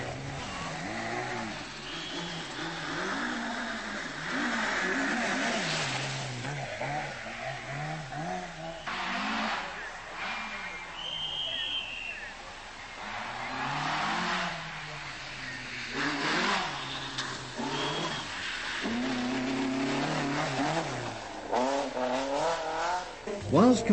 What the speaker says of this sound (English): the cars roar through the woods en route to another tarmac stage